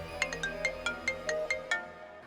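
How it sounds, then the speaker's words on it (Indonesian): A mobile phone ringtone for an incoming call plays about eight bright, evenly spaced electronic tones at close range over a steady low hum, with no talking. "Aduh, siapa sih siang-siang gini nelpon?"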